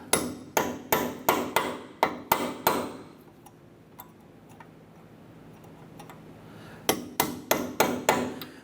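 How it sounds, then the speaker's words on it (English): A hammer drives a punch into the dimpled lock nut on the axle of a 2008-2012 Honda Accord, sharp metallic strikes in two quick bursts of about six blows each, separated by a quiet pause. "I want to go ahead and use a punch. We're going to put it right in here."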